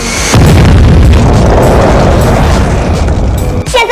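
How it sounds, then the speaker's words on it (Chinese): Nuclear bombs exploding in an animated Simpsons cartoon scene, a loud sustained rumbling blast with deep booming low end that rolls on for several seconds before cutting off. "地球的核弹相继爆炸"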